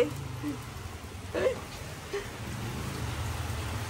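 Heavy rain pours down in a steady, dense hiss close by, with a brief faint vocal sound partway through.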